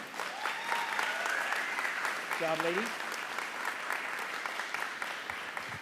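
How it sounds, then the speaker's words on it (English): Audience applause fills a school board meeting room, steady clapping from a crowd that runs the whole stretch while a speaker's voice briefly talks over it. "So give them a round of applause."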